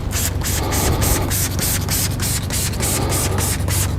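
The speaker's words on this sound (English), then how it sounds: "Shoot from the front, cover everything, go to the passenger side, shoot across" Water-based engine dressing sprayed across a car engine bay from the front and both sides, a steady close hiss with pulsing bursts running the whole time, no talking.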